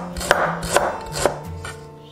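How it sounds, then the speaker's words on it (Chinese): Knife slicing fresh ginger on a cutting board in a home kitchen, four crisp separate chops spaced about half a second apart, close and clear with no talking. "生姜切片"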